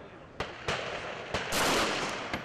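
Pistol shots ring out during a soldiers' pistol qualification shoot: four or five sharp reports at uneven intervals, fairly close, over a steady outdoor background with a longer burst of rushing noise in the middle.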